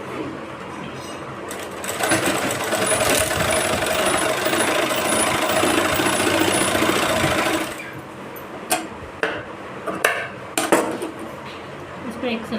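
Sewing machine stitching blouse fabric, a steady loud mechanical whir running for several seconds before stopping, followed by a few clicks and taps of handling the cloth.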